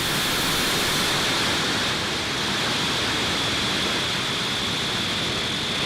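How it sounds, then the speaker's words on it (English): Falcon 9 rocket engines at full power during a SpaceX Starlink launch liftoff, a loud continuous broadband roar that stays steady and dense throughout with no voices. "ignition, engines full power, and liftoff of Starlink 6-10"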